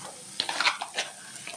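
Scrambled egg and chicken stirred together in a hot pan for noodles, a close, steady sizzle broken by several quick scraping strokes of the spatula.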